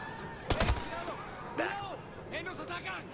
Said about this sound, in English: I'm gonna shoot this guy.